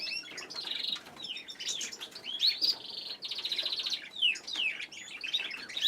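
Canaries and their fledgling chicks chirp and tweet busily inside a cage, overlapping high calls and short warbles filling the space continuously with occasional wing flutters, close and moderately loud.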